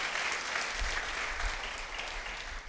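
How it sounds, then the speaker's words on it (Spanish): A church congregation applauding during a worship service, steady sustained clapping from a crowd, moderately distant and even in level throughout. "que le demos un fuerte aplauso a nuestro Señor por la vida de ellos también"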